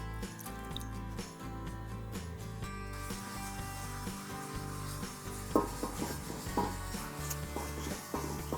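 Running water and scrubbing in a new frying pan being washed with detergent, with sloshing, rubbing and occasional clinks of metal cookware, fairly quiet and close.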